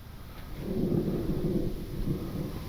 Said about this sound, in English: Uh-oh, got a storm coming.